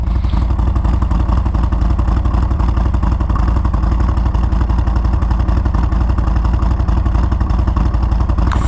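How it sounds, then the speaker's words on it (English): Harley-Davidson 2023 Road Glide Special with Screaming Eagle Stage 2 exhaust and cam, a deep steady engine rumble with rapid loping pulses, close and continuous with no talk. "These pipes with the cam are pretty, like, really deep."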